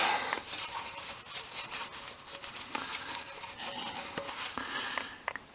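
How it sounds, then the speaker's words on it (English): A rag wipes excess oil from the drain area under a VW MK3 during an oil change, making soft, close rubbing and scuffing sounds with a few light knocks. "Then we're gonna wipe the little excess off that."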